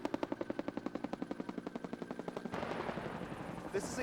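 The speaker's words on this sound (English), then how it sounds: "Helicopter gunships sought out the last pockets of resistance." Rapid, rhythmic bursts of heavy gunfire from helicopter gunships in Iraq in 2003 repeating evenly, then giving way to a roaring engine-like rumble with a helicopter-like drone.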